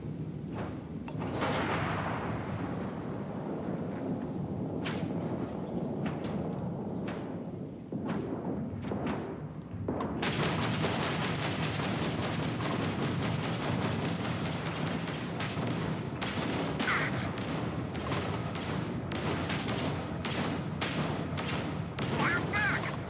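Starfield space combat with gunfire, heard as scattered sharp thuds and booms, then a denser run of repeated bursts in the second half over a constant rumbling background, with voices talking at times.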